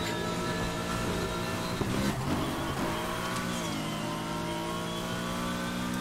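A car accelerating during a night race in Need for Speed Heat, a steady loud engine drone that climbs in pitch with a brief shift partway through, heard alone.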